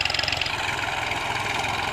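A Massey Ferguson MF 1035 DI tractor engine runs steadily close by, a continuous mid-range diesel rumble with a fast regular pulse and no talk over it.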